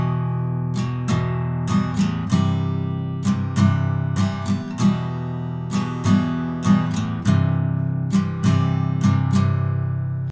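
Acoustic guitar chords strummed in a chorus pattern, heavy on the thick low strings, with steady down-up strokes ringing out close and clear for about ten seconds, no voice.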